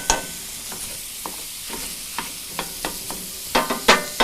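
A mix and chop utensil scrapes and taps through food frying in a pan, giving a light sizzle and a run of irregular clicks that grow louder near the end, with no voices.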